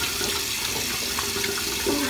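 Tap water runs steadily from a faucet into a sink during face washing, a constant close hiss with slight splashing changes, no voices.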